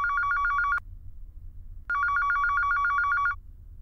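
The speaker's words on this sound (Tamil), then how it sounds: "ஃபோன்." A telephone rings indoors in two loud electronic bursts of rapid trilling tones, separated by about a second of quiet room hum.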